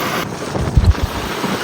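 Cold wind rushes past a microphone during a motorbike ride on a four-lane road in Gujarat, a steady broadband roar with a few low buffeting gusts near the middle.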